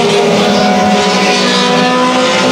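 Thunder Stock race cars roar past at Evans Mills Raceway, a loud, close blare of engines with a sweeping pass and a brief tire squeal, no speech.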